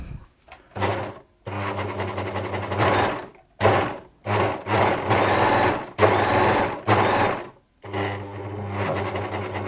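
An unthreaded Bernette 610D serger, freshly serviced, runs in a series of short bursts separated by brief pauses, its close whirring motor stopping and starting at varying lengths.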